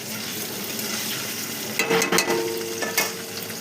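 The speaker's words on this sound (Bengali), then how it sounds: "জল গরম হয়ে গেলে আমি কিন্তু এরপর আমি পনিরের টুকরোগুলোকে হালকা ভেজে নেব।" Paneer pieces lightly frying in oil in a pan, a steady close sizzle with a few sharper crackling bursts near the end and no talking.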